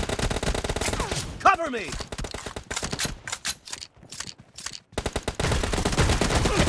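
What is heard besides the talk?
M1014 shotgun gunfire in the video game PUBG Mobile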